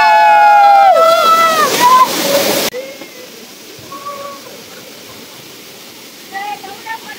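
A waterfall's loud, steady rush of water fills the first few seconds while voices shout over it, then cuts off abruptly to a much quieter outdoor scene with occasional talk.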